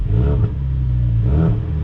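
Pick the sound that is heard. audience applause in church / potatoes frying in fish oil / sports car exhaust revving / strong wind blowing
sports car exhaust revving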